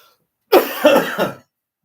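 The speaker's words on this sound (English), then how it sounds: "you're having this cough or feeling of sensation like you have to get a cough out" A single throaty cough burst, three quick rough pulses in a row, close and fairly loud, with silence before and after.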